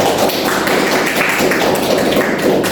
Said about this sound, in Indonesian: Beri aplaus untuk Saiful.